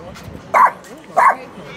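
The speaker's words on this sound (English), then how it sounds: "She'll do a lot of barking." A dog gives two short barks about half a second apart, fairly close, over faint background noise.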